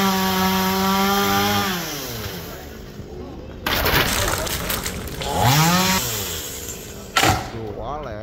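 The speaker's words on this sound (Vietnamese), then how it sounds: "Rồi chú mình cưa cái nhánh nó nhỏ cho nó rớt xuống nha." Chainsaw cutting a branch off a huge dau tree near a district market in Tri Ton, An Giang, engine revving up and bogging down through the cut, loud and close, with a voice speaking over it.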